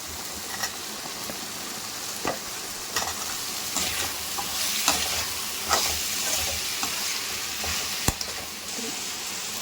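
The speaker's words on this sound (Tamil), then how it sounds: "எறாவும் முருங்கைக்காவும் நல்லா வதங்கினதுக்கப்புறம்" Prawns and drumsticks stir-frying in a pan give a continuous close sizzle, broken by repeated scraping strokes of a spatula and one sharp knock, no voices.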